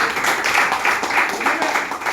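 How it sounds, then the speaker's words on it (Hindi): Applause for a teacher at a Teachers' Day gathering, a steady wash of many hands clapping from a group, sustained and moderately loud with slight swells, with some voices mixed in. "उनके लिए जोरदार तालियां होनी चाहिए।"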